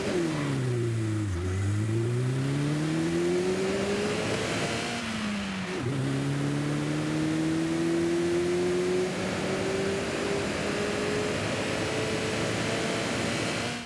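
A Nissan Figaro's small engine in Forza Horizon 5 revs up and down in several swooping pitch sweeps, then climbs steadily through a long pull. The engine is loud and close throughout, with nothing else audible.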